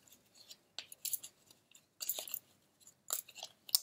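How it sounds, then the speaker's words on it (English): Lenormand cards shuffled by hand in several quick bursts of papery riffling and slapping, close and fairly quiet, separated by short pauses. "Let's take a good shuffle of these cards"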